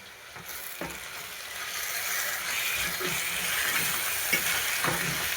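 Vaseti bhaji greens fry in a pan, giving off a steady close sizzle broken by stirring strokes roughly once a second that scrape and toss the leaves.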